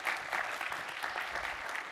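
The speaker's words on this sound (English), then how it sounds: "Let's give Dr. Moss a round of applause." An audience at the 2014 Young Scientist Challenge final event applauds, a brief, even burst of many hands clapping at moderate distance.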